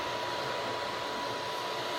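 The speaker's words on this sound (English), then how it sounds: "the printer is just about done with the first layer of the raft" An Elegoo Neptune 3 Pro 3D printer lays down the first layer of a raft, producing a steady, continuous whirring hum of fans and motors with no pauses, close and fairly loud.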